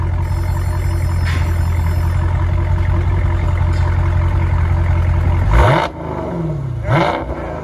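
A 2020 Dodge Challenger Scat Pack with a 6.4L V8 and dual exhaust fitted with Dynomax Race Bullets, in sport mode, rumbles loudly and steadily, then gives two sharp throttle blips near the end.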